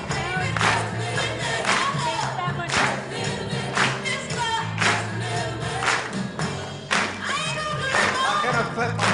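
Audience clapping along in a lively room, steady rhythmic claps mixed with crowd noise and thumps over music, voices calling out now and then.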